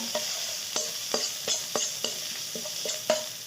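Ingredients stir-fried in a pan, with a steady sizzle under repeated rhythmic scraping strokes of a spatula about every half second, close by.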